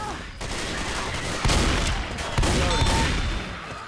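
Dense gunfire in the Left 4 Dead 2 zombie shooter on the Swamp Fever campaign in Realism Versus mode, steady rattling shots with louder bursts near the middle, under faint player chatter.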